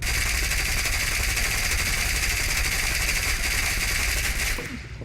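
Aircraft machine gun in the air-combat game War Thunder fires in one sustained, dense rattling burst that fills the whole stretch, loud and continuous before cutting off abruptly at the end.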